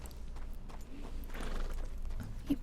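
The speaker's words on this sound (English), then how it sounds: "You push your horse to climb up it. It's very steep." A horse's hooves clop in a steady walking rhythm as it climbs a steep hill in Red Dead Redemption 2, moderately close over a soft outdoor game ambience, with no talk.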